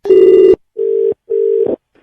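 A telephone call is redialed and rings back with three loud, steady electronic tone bursts separated by short silences, and no one speaks.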